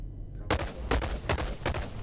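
Automated turret in a video game firing several short, sharp bursts of gunfire in quick succession, loud and close, with a brief quiet gap before the first volley.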